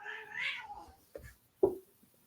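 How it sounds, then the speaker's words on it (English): A house cat meows loudly up close, a drawn-out yowling cry followed by a couple of short, sharper mews after brief pauses, with no talking. "Hold on, I have a fucking cat."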